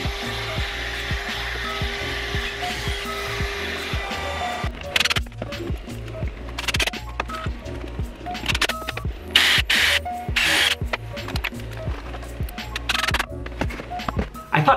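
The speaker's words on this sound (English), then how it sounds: "I'm going back through and adding additional pocket holes and additional pilot holes so that I can add 4 screws per joint between the pieces" A power drill bores pocket holes and drives screws into a wooden tree bookshelf, a steady loud whirring motor that breaks into repeated short bursts of drilling and screwing.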